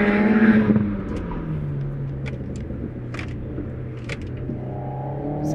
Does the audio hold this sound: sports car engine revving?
yes